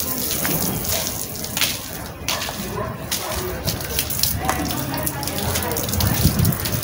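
Abundant water flows outdoors along a street in Brazil, a steady rushing gush throughout, with a dog barking nearby.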